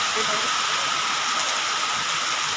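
Steady, dense hiss of heavy rain pouring down during a thunderstorm with wind, with rushing water, continuous and fairly loud throughout.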